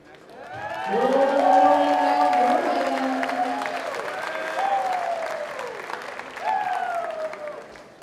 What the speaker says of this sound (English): Please give a round of applause to Brett Wurtzman.